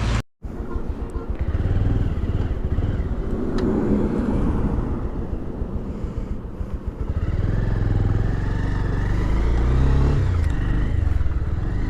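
A motorcycle being ridden, its engine droning steadily close by with wind rush and road noise throughout, briefly dropping after a short gap at the start; no talk.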